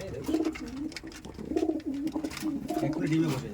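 Teddy pigeons cooing close by in repeated low, throaty phrases, heard with someone speaking over them.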